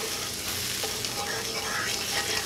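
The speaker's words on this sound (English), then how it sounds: "we're gonna give that a nice stir. Scrape up all the yummy bits in the bottom of your pan." Tomato paste being stirred into a pan while Swiss steak cooks, with steady sizzling and the scrape of a utensil along the pan bottom, continuous and close with no talk.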